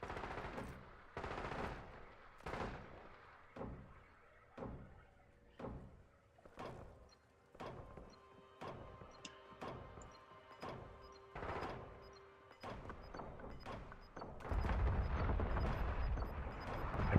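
Gunfire in the video game Warzone: a long series of bursts and single shots at a steady uneven rhythm, fairly faint and distant, ending in a louder rumbling wash of noise.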